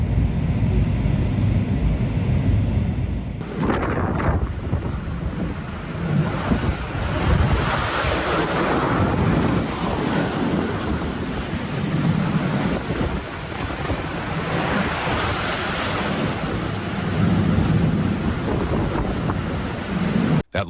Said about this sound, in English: a massive wave slammed into a beachfront house